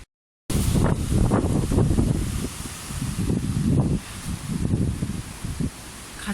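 Strong gusting wind in Ireland on a fair day roars loudly and steadily against the microphone, rising and falling in heavy surges after a brief silent start.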